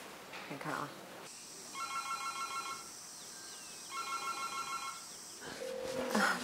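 Outgoing call ringback on a telephone, two bursts of repeated electronic ringing tones separated by a pause, fairly clear with light background noise and a short beep near the end.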